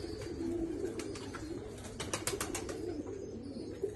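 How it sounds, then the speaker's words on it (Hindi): Pigeons, striped and crested fancy breeds kept in a loft, coo softly in low repeated phrases, with wing flutters and faint background clatter in the middle. "ये है जी पट्टी वाले माशाल्लाह कबूतर जी"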